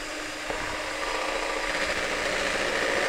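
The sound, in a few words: stand mixer whipping egg whites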